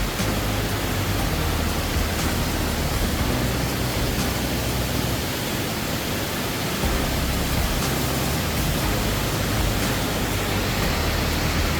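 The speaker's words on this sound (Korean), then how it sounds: "앞에서 보신 3단 폭포에 이어 여기는 2단 폭포 지점입니다" Hongryong waterfall at its two-tier section roars as a steady, dense rush of falling water, loud and close, unbroken throughout with no voices.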